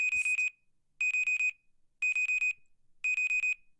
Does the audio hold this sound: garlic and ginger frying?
no